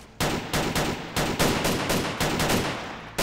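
Gunfire in the video game DayZ: a rapid series of about eight loud, close shots in an uneven rhythm, each sharp burst ringing briefly before the next, with no talk over it.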